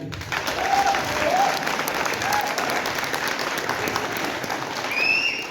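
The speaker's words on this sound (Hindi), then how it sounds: "मैं कलाकारों से कहूंगा कि आप दर्शकों के लिए एक जोरदार ताली।" Loud, sustained applause from a theatre audience for the actors of a stage play, dense clapping holding steady throughout with a few faint voices and whistles rising above it.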